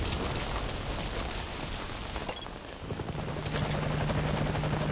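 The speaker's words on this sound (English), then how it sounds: "And it sounds like our helicopter is on the way." A continuous rotor thump and whine of a helicopter approaching in the video game Metal Gear Solid V: Ground Zeroes, fairly loud and steady, with a brief dip in the middle before returning.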